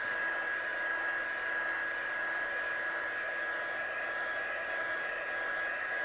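A hair dryer blows continuously on a craft piece, a steady whooshing hiss with a thin high whine, held at an even level with no talk.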